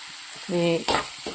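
Onions sautéing in a pan for banana flower oats cutlets, a steady soft sizzle with a brief harmonic tone in the middle and a clatter of stirring near the end.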